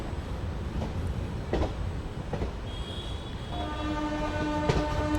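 India's first hydrogen train, the Namo Green Rail running from Sonipat to Jind, pulls out of Jind city station with a low rolling rumble, a few clunks, and a sustained horn tone near the end.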